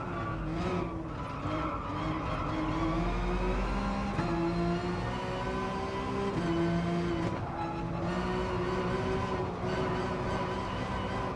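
Porsche 911 RSR racing car in the GT Sport game, its 4-litre 24-valve flat-six engine droning steadily throughout, pitch rising and dropping with gear changes, loud and unbroken.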